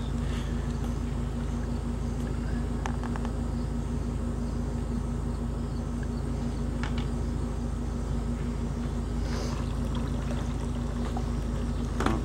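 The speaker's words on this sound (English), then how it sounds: "I'm gonna catch some water in this cup" Water pours steadily out of a homemade solar pool heater into a cup, a continuous rushing flow with a low hum underneath, close and constant throughout.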